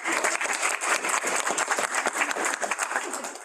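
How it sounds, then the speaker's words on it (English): Applause from a meeting audience: a steady round of many hands clapping, moderately close and continuous for several seconds, with faint voices mixed in. "Round of applause for online."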